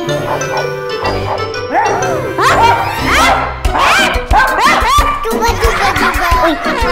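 A voice mimics a dog barking, giving a run of loud, yappy woofs mixed with giggles and snickers at close range.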